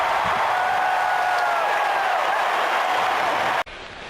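A dense, steady roar from a baseball stadium crowd cheering a home run hit into the water at AT&T Park, sustained and loud throughout before cutting off abruptly near the end.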